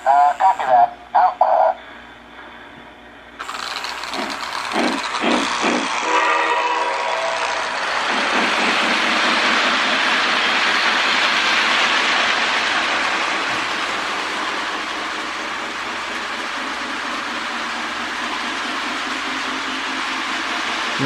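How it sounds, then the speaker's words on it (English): Lionel model train tender after repair, chuffing steadily with a deep, continuous rushing sound that holds loud for many seconds, preceded by a few short sharp bursts and brief tones. "As you can hear, the chuffing is a lot deeper."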